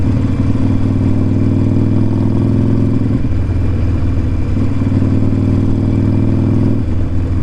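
Harley-Davidson Iron 1200 motorcycle engine while riding, a steady loud low throb with engine harmonics throughout and brief shifts in pitch around three and seven seconds, no talk.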